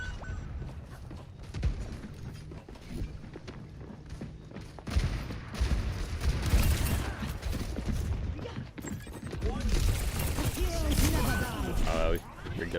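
Gunshots in Overwatch 2 rattle almost constantly as busy, dense game combat noise, with impacts and mechanical clatter. A voice talks over the action.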